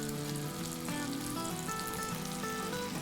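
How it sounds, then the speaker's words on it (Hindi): Reshmi kebabs finished with cream sizzle in a pan, a steady close crackle and hiss running throughout, with soft tonal music faintly underneath. "मैं बस इनको देख रही हूँ प्यार से कि ये सिजल कर रहे हैं"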